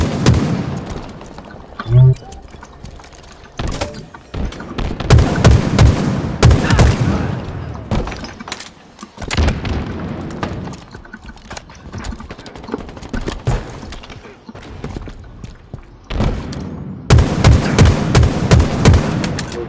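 Sniper rifle fire in the first-person shooter Halo Infinite, loud booming shots in repeated bursts amid other gunfire and explosions, with voices talking over the action.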